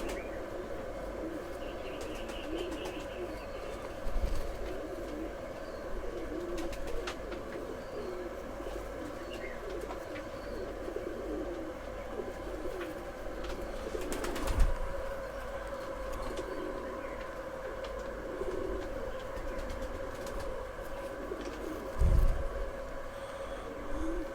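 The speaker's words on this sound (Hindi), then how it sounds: "तो ये कबूतर है" A Missay Rakh pigeon, an old Rampur-line bird eight or nine years old, coos softly in a low steady murmur, with a few louder thumps and knocks breaking through the constant background hum.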